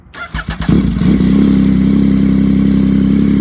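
A 2022 Yamaha MT-09 with an SC Project aftermarket exhaust cranks with a few sputtering pops, then catches and settles into a loud, steady, throaty idle with a deep rumbling exhaust note.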